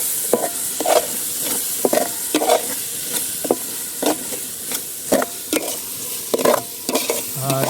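Chicken gravy with curry leaves frying in a pan, stirred with repeated scraping strokes over a steady close sizzle, no voices.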